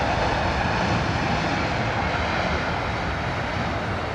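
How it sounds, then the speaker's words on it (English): An Aer Lingus airliner lands at London Heathrow, a constant, moderately loud engine roar with a rough low rumble, unbroken and free of speech. "Aer Lingus coming in."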